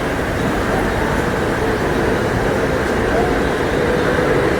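A Mumbai local train at Jogeshwari West station, a loud continuous rumbling roar with station noise and indistinct voices mixed in.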